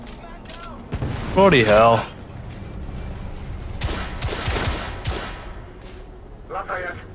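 Gunfire in The Order: 1886 video game, fired from an airship: several sharp bursts of shots come in two clusters, and a man exclaims between them.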